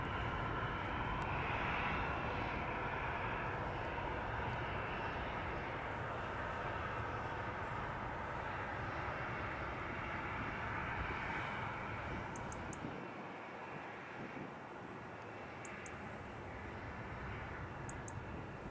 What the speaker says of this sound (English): So we've got a easyJet A320neo lining up for London Luton